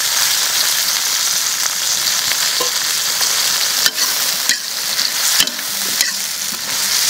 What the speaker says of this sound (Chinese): 花椒，好，这个给它炒香。 加辣椒。